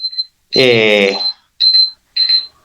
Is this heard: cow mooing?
no